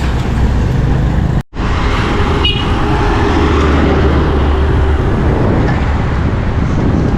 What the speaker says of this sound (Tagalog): pa-traffic lagi dito sa Guyong